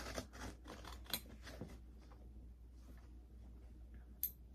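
Scissors snip through a paper takeout bag in a few quick cuts, close and fairly quiet, with a steady low hum behind them.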